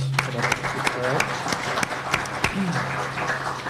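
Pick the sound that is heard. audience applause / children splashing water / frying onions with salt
audience applause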